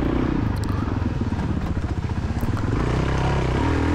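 A motocross dirt bike races close and loud, working to pass a KTM in a Senior C cross-country race at The Ridge, with a rough, throbbing engine note and clattering over the terrain.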